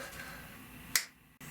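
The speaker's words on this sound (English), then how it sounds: "So let's do the finger snap trick again." A single sharp finger snap, crisp and close, standing out against a quiet room hum and fading quickly.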